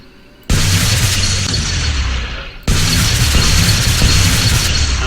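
Two loud bursts from a burn-effect cleaning tool in the video game Viscera Clean Up Detail, each a sudden whooshing roar that holds for about two seconds, close and alone.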